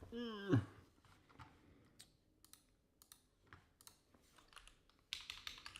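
Typing on a computer keyboard at a desk while working in a Linux virtual machine, a quick run of uneven clicky keystrokes in scattered bursts after a brief voice at the start, ending in a denser flurry of taps.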